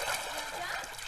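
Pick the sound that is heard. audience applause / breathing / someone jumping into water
someone jumping into water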